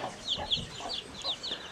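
Chicks, including naked-neck ones, peep with hens on a small farm: a rapid series of high, thin cheeps close by, with softer low clucks beneath.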